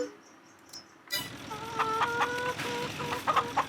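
Chickens cluck in short, repeated bursts in Farming Simulator 22, fairly close and steady after a brief quiet start, with no talking over them.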